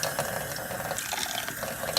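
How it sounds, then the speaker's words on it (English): Water running and splashing as rice is rinsed and the water poured off, a steady close trickle with small drips and sloshes, no talking. "I'm gonna just rinse them off and continue to pour the water off just like this."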